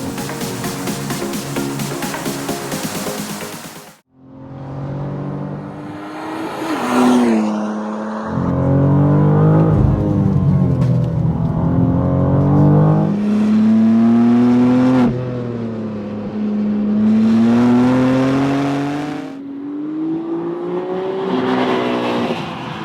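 A new BMW M2 sports car driving hard at a performance center in South Carolina, its engine loud and close, revving and rising in pitch through gear changes, with a brief drop near the start and tire noise.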